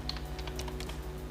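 Light, rapid typing on a computer keyboard while a privacy policy page is set up on a website, a run of soft clicks over a steady low hum, close but quiet with no talking.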